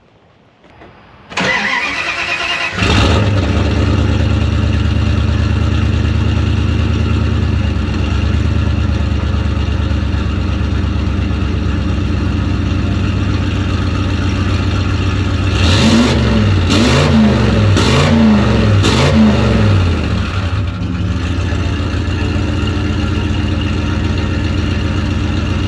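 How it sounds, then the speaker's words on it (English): Turbo truck engine with a mid-pipe and no muffler cranks and fires up, then settles into a loud, steady rumbling idle, close by, with a few throttle blips partway through before returning to idle. "have the mid-pipe on now, so it's gonna sound a little different, but we'll fire it up, let it warm up."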